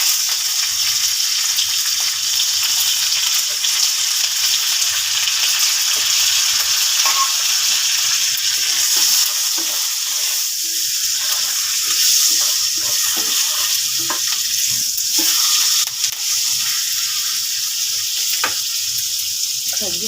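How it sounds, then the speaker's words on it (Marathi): Curry leaves and green chillies crackle and sizzle steadily in hot oil with mustard seeds for a tempering, a close, continuous frying hiss with occasional pops and stirring, no talk. "आता आपण कढीपत्ता आणि मिरची टाकूया."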